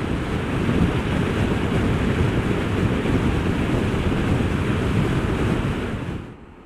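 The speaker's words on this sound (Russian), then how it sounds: "Ветер такой, блин, сумасшедший." Strong wind buffets the microphone in a loud, constant rush, with surf-like noise underneath, fading out just before the end.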